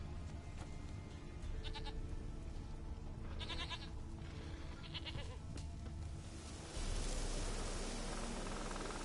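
A goat bleats several times in short wavering cries in the Witcher 3 video game, heard over steady wind-like background noise that grows louder near the end.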